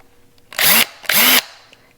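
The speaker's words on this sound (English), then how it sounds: "I'm going to get out my drill, and I'm going to drill larger holes" Two short bursts of a power drill with a 3/16-inch bit drilling holes in a pot, each whining up to speed and cutting off, with a quiet pause between them.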